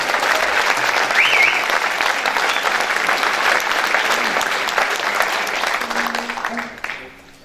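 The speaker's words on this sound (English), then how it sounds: "have a round of applause again for Anjo Lueiras, Gonzalez Schwab, and João Papadeiro" An audience claps loudly for fado singers at a book launch on Portuguese bands of California, the steady applause holding strong before tapering and dying away near the end, with a few voices underneath.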